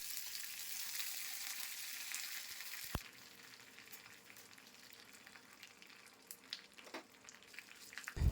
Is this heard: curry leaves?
yes